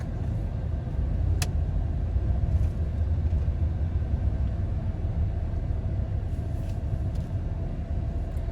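A car cruising on an express-lane highway between Fort Worth and Dallas, with a steady low road rumble and engine drone heard from inside and a couple of faint clicks.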